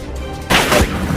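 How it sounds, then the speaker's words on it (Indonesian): A single loud shotgun blast rings out in a violent film scene. It cuts in sharply after a quieter lead-in and fades over a short tail. "menembak Oguchi menggunakan shotgun"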